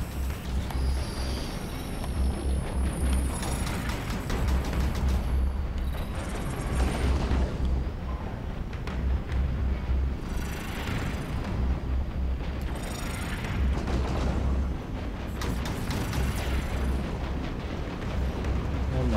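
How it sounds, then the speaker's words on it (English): Dense, continuous rumbling bursts and booms of gunfire and explosions in Halo 5: Guardians, loud and busy throughout with no pauses. "God, look at all this gunfire."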